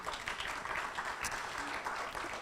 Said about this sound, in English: However, applause for Jennifer.